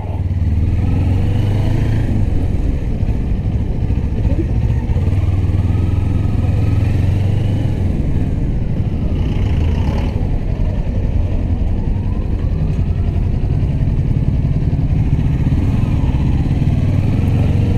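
A Modenas Ninja motorcycle rides through congested traffic, its mid-pitched engine droning steadily and loudly throughout with a slight rising rev partway through, under constant road and wind rush.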